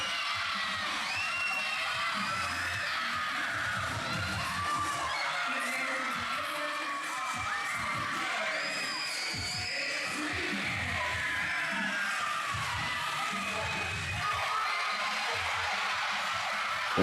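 Wrestling event crowd cheering and shouting in a steady, continuous roar of many voices with whoops and yells throughout.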